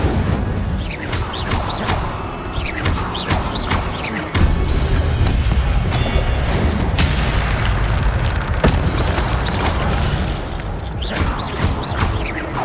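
Repeated Incendio fire spells cast in Hogwarts Legacy, a dense stream of booming, crackling bursts and whooshes that keeps up loudly and steadily throughout.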